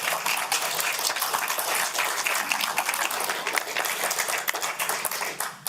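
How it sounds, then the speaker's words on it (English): Applause breaks out at a crowded public meeting on the Corinth-Shiloh tax district appointments, a sustained mass of sharp hand claps from many people in a large room, steady and loud throughout. "Please hold applause."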